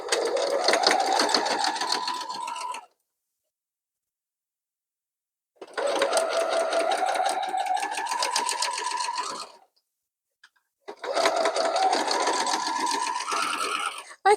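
A sewing machine stitches quilt block pieces in three steady runs of rapid mechanical whirring, each a few seconds long with quiet gaps between them. It is close and loud, with no talk over it.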